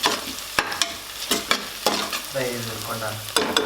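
Ginger garlic paste frying in a pan with onions and green chillies, a sizzle broken by several sharp stirring scrapes and clanks of a spoon, close and fairly loud.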